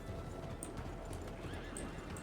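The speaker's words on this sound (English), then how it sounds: "A lot of people like to run their horses into you" Horse hooves clip-clopping past at a trot in a RedM western roleplay game, steady rhythmic hoofbeats close by with a horse whinnying, over a constant busy background.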